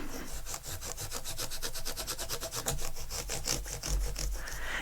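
Guitar frets being polished by hand, a steady rapid back-and-forth rubbing with dense, evenly repeating scratchy strokes that stays close and continuous throughout, with no talking.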